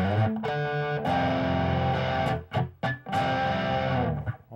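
Distorted electric guitar plays a slow slide through strummed chords, thick sustained tones with a few brief dips and pauses near the end, close and loud with no voices.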